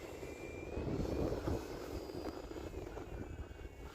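An RC airplane fitted with Dubro skis flies over snow, its engine a steady droning whine that swells slightly near the middle and then holds at a moderate, fairly close level.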